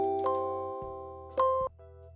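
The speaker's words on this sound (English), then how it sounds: "We're just going to do a test run on the doorbell to see if the Chime is working" A Zmodo Greet Pro doorbell chime plays a two-tone ding-dong twice, clear and close, with a faint steady hum between the tones and no voices.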